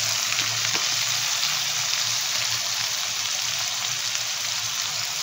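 A pabda fish curry with turmeric fries in a pan with a steady, bubbling sizzle, and a faint clink of a utensil comes in near the start.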